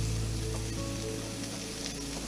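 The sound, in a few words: kabobs sizzling over fire on a grill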